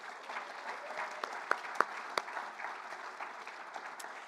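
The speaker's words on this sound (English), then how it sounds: "I think that's worth a clap." Quiet applause rises from an audience at a book award ceremony held in a state library, a soft, even patter of hands with a few sharper claps standing out.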